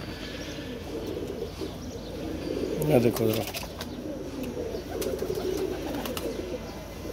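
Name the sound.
pigeons cooing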